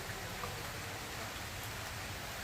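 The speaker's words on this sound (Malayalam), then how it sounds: "നല്ല മഴയുണ്ട് ഗൈസ്" Steady, even rain patters continuously on a terrarium, a soft hiss of drops falling on surfaces with no voices.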